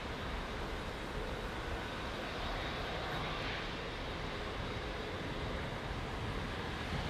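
Aer Lingus A320neo airliner at Heathrow, a steady moderate engine rumble and hiss that stays fairly constant, with no talk over it.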